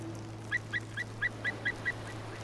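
A string of seven or eight evenly spaced, harsh honking calls from crows, fairly clear over a steady low background hum, in winter.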